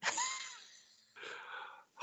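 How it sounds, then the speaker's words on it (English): Breathing caught close on a recorder in a reportedly haunted house in Ohio: two long, airy, wheezy breaths with a short pause between them, near and fairly faint, with no talking. "like someone was breathing right into the recorder"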